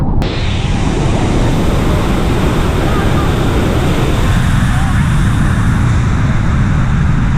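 Loud, steady roar of rushing water, like a powerful waterfall in Venezuela close by, filling the whole clip with dense broadband noise.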